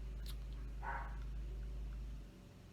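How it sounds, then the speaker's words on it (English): A dog somewhere in the background lets out one short bark, followed by a faint whimper, distant and brief against a steady low hum. "apologies for the dog in the background, I can't do anything about it."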